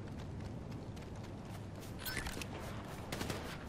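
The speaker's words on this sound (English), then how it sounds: "Somebody shot somebody." Gunfire in the online multiplayer game GTA V comes as bursts of rapid shots, some sounding faint and distant, over steady game background noise.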